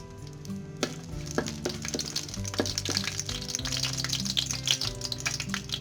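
Cinnamon, cardamom pods and bay leaves crackle and sizzle in hot ghee, a busy close-up frying hiss with sharp pops and a few clicks of a spoon stirring.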